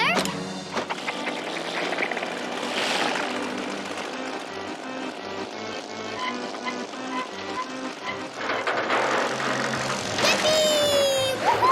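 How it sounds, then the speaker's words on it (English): A cartoon contraption's propeller spins up in the Masha and the Bear animation with a continuous whirring, engine-like drone. The sound grows busier toward the end, where a bright whistling tone joins it. "Propeller."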